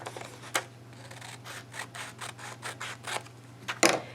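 Scissors snip repeatedly through a photo strip cut for paper weaving, a steady series of soft close crisp cuts in a quiet room, with a louder rustle near the end.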